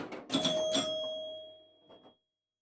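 Chimes ring out from a Fire Queen pinball machine during play, a couple of bright tones with a long sustained ring that fades, followed by a fainter clatter near the end.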